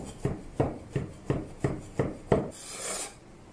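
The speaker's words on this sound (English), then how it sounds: "Coarsely chop some garlic." A knife coarsely chopping garlic on a cutting board for a stuffed bell pepper recipe: about seven crisp, evenly spaced chops, close and alone, followed by a brief scraping rasp.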